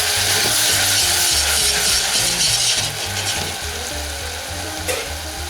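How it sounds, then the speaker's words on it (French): Onions frying in olive oil spit and sizzle loudly when a little water is added to the pan, a dense, continuous hiss that eases slightly toward the end, with no voices. "à ce stade, je rajoute un tout petit peu d'eau au fond."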